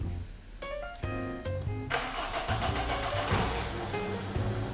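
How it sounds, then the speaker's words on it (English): Car engine starting on propane fed directly into the air intake: a brief cranking whir with scattered clicks, then the engine catches into a loud, rough, continuous running roar. "the spark plugs did their thing and ignited the fuel air mixture, and we got the engine running"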